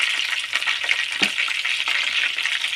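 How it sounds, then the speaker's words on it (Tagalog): Chicken marinated in calamansi and fish sauce frying in a pan, giving a steady, loud bright sizzle throughout with a few sharper pops and spatters. "niluluto na pagprito ng chicken"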